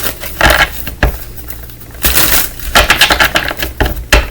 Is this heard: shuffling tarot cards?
yes